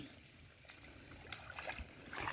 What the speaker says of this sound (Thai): น้ำไหลบนทาง